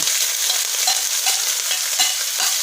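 Chili, ginger, garlic and cumin pastes hit a hot oiled pan for a chicken and potato curry, giving a dense continuous sizzle with soft stirring scrapes close by and no talking.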